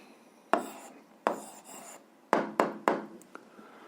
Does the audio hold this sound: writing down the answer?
yes